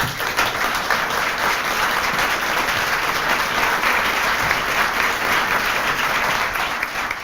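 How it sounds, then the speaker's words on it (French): A large audience applauds a 2018 prize winner at a French foundation award ceremony, sustained dense clapping filling the room evenly from start to finish with no voices over it. "je demande simplement de l'applaudir pour sa qualité de ses recherches."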